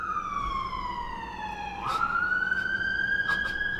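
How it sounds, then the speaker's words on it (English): A siren wails nearby, sweeping slowly down then rising again, loud over faint traffic rumble with no talking. "Forgive the sirens."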